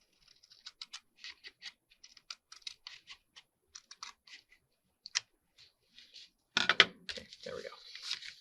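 Sheet of 12x12 scrapbook paper being trimmed: a run of light, crisp clicks and snips at a steady pace, then a louder burst of rustling paper handling at the end, close up.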